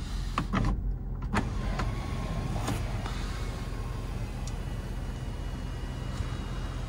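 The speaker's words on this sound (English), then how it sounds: "You can also tilt the sunroof and of course slide it." The power sunroof of a 2021 GMC Yukon Denali tilts and slides, a low steady electric motor hum with a few faint clicks, continuous and fairly quiet inside the cabin.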